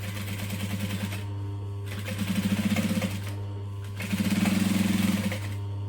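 A sewing machine runs steadily over a low motor hum while stitching the seam of a bag lining, including a backstitch. Three rhythmic bursts of needle clatter come close up, and each one grows a little louder.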